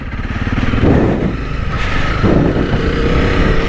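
A Honda CRF 300 Rally motorcycle engine runs loud and steady while riding off-road in the Peak District, with two rising throttle surges and no talk.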